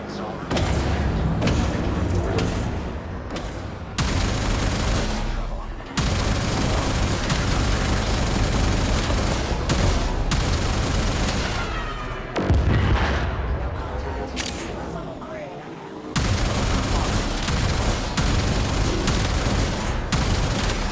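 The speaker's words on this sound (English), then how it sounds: "Arm the warheads. Fire full salvo." Warheads fired in a full salvo in the Warframe video game, with dense, continuous booming barrages and explosions rolling on loudly for the whole stretch, broken by a few brief dips, while voices talk over the chaos.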